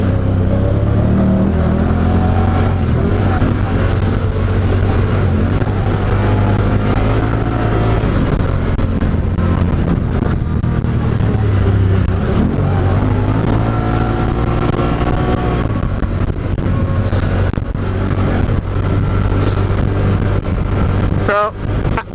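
Honda Talon 1000X or 1000R side-by-side with a CVT droning steadily as it drives and accelerates, engine loud and close throughout, with occupants talking over it.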